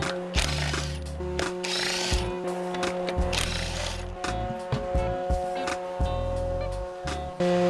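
A power tool removing a wheel from a Volvo 850R whirs in repeated short bursts with ratcheting clicks, loud and close, the motor revving and stopping several times.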